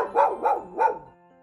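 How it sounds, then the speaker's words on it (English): A dog gives three quick, sharp barks in even succession, close and clear, then falls silent. "Dog."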